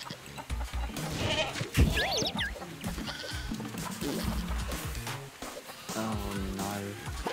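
Goats bleat repeatedly in the co-op video game Moving Out 2, with several wavering cries over busy game sounds and scattered voices.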